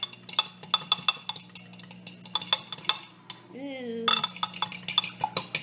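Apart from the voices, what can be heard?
mixing eggs with a fork in a bowl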